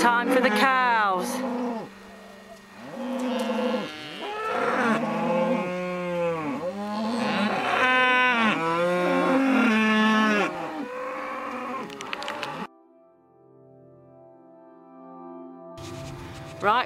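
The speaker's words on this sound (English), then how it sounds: "Feeding time for the cows." Several cows moo loudly and repeatedly at feeding time in the Scottish Highlands, overlapping calls close by, followed by a quieter stretch near the end.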